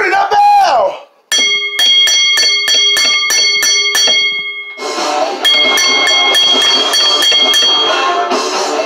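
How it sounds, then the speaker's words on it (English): A wrestling ring bell clangs in a rapid series of loud, sharp metallic strikes at the end of a street fight main event, ringing on and on over a roaring arena crowd. "Ring the bell!"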